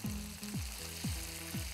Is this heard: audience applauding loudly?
no